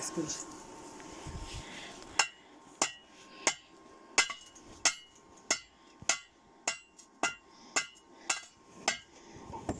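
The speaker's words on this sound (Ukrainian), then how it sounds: "Даю тобі молоток." Sharp metallic hammer strikes ring out in a steady rhythm, about a dozen blows in quick succession, close and loud over faint background noise.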